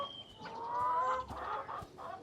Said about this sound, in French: Ma grand-mère aimait seulement les poules.